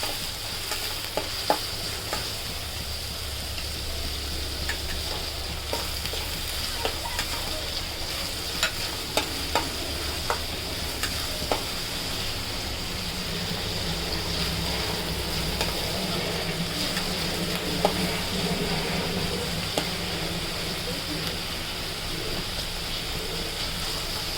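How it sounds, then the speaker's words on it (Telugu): Fish egg bhurji fries in a pan, a steady close sizzle running throughout, punctuated by repeated scraping taps of a spatula stirring and turning the mixture. "ఇది బ్రౌన్ కలర్ వచ్చే వరకు వేపాలండి"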